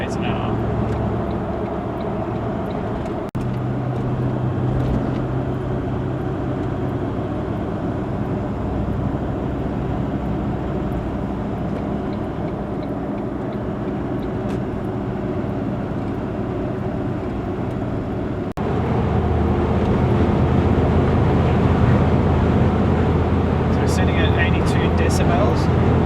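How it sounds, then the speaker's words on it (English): Steady, loud road and wind roar fills the cabin of a Toyota Landcruiser 70 Series driving into a headwind at about 100 km/h, a constant droning rumble that grows heavier near the end, with someone talking over it. "We're driving into a headwind now, so it's a lot noisier."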